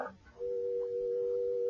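A telephone dial tone comes on after a brief click: a steady, unbroken low hum that continues evenly and fairly loud, from an old radio mystery drama.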